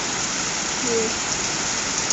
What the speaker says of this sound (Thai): ฝนตกแรงมากเลยค่ะ